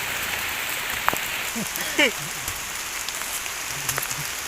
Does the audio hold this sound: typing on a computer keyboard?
no